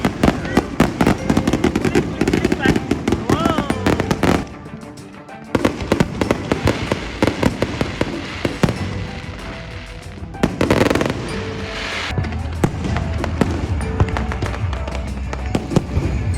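New Year's fireworks at a pier crackle and boom repeatedly, dense bursts of pops and bangs with brief lulls, while people's voices are heard in the background.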